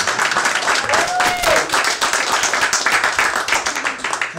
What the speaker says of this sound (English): One round of applause for the lovely Jihan.